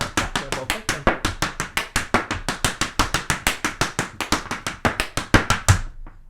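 Irish dance hard shoes rapping out fast treble clicks and toe taps on a hard floor, a steady run of about thirty crisp close strikes in quick rhythm.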